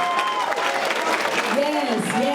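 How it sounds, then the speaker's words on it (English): Brief applause rises from an audience at a graduation completion celebration, dense clapping with cheering voices mixed in over about two seconds. "give them a round of applause as well"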